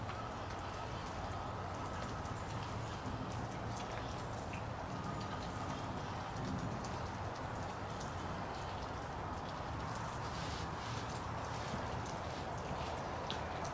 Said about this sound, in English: The raindrops.